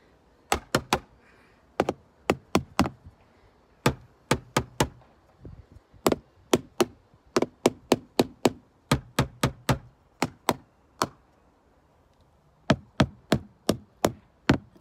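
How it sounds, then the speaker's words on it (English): A drumstick strikes a compost bin in quick clusters of sharp, close knocks separated by short pauses, with no talking. "So here are the different sounds on the compost bin."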